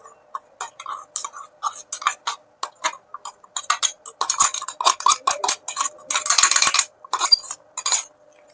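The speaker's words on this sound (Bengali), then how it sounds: "এবার এটাকে আমি ভালো করে মেশাবো, ঘিয়ের সাথে চিনিটাকে এইভাবে ভালো করে মিশিয়ে একটা" Spoon clinking and scraping against a bowl as powdered sugar is mixed into ghee for atta nan khatai biscuits, a steady run of quick sharp ticks that grows denser and busier toward the end, with no talking.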